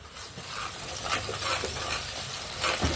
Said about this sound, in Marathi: आता बघा याच्यामध्ये आलं लसूणची पेस्ट आलं लसूणची पेस्ट टाकूया